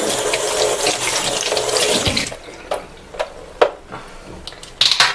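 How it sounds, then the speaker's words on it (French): Tap water runs loudly over a Sephora foundation makeup brush at a sink, a steady splashing rush for about two seconds, then it stops, leaving scattered faint drips and small clicks. "j'allume mon robinet et je le mouille"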